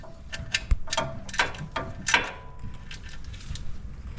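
A hand ratchet clicks in short bursts while tightening during an oil change on a 2025 Ford F-150 XLT 3.5L PowerBoost, close and crisp, with pauses between the strokes.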